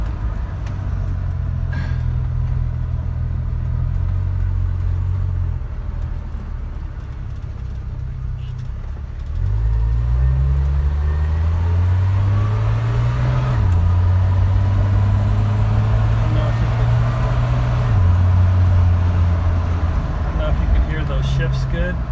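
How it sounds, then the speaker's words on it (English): A 1978 Dodge D100 pickup with a three-speed automatic runs at a smooth, low engine drone that shifts pitch partway through as it changes speed. It stays steady and near throughout. "It's smooth, quiet. Well, quiet for a pickup truck."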